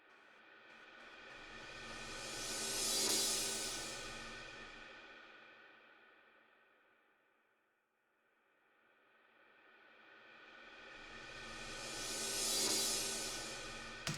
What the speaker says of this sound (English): I just put risers and other cymbals there